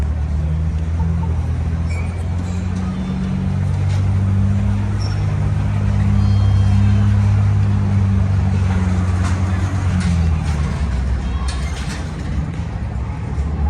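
A Ford Bronco Raptor creeps at about 2 mph on an indoor off-road course at an auto show, its engine a steady low rumble with a constant drone throughout and faint background noise above it.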